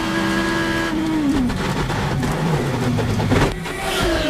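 Dan Wheldon's race car, heard onboard during a crash, roars loudly and steadily, its engine pitch dropping and shifting as it goes off.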